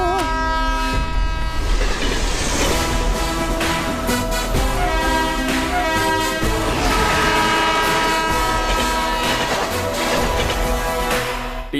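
A train approaches and rushes past, loud rumbling wheels and clattering cars with a blaring horn sounding repeatedly, close and continuous throughout, with speech faintly underneath.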